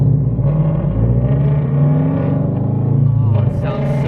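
A straight-piped Toyota 86 on a late-night drive, its exhaust droning loud and close with a deep, raspy tone that swells briefly as the revs climb, then settles back to a steady cruise.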